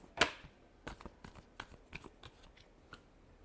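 Tarot cards are shuffled by hand, opening with one sharp riffle and followed by a run of soft, quick flicks and taps of cards, close and quiet with no talk.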